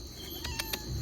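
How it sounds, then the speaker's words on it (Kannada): A kitten gives a few short, high meows in quick succession, close by over a low background hum, with no talking. "ಅಲ್ಲಿ ನೋಡಿ ಬೆಕ್ಕಿನ ಮರಿ"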